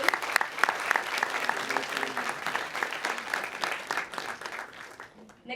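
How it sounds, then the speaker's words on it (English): An audience applauds at a Three Minute Thesis event at Nanyang Technological University in Singapore, a steady wash of many hands clapping at moderate distance that thins out near the end. "Please give a round of applause for Dr. Yuan Chi Yun"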